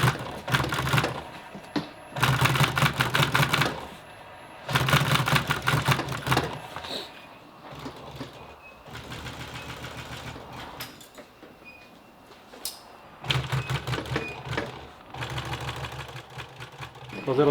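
An industrial sewing machine stitches auto upholstery material in several bursts of rapid, steady mechanical chatter separated by short pauses, loud and close, while a person talks between runs.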